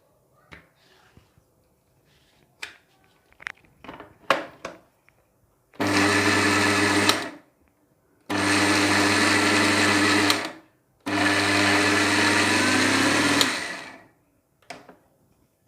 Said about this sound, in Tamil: ஸோ அதனால் விட்டு விட்டு அரைங்க இதை.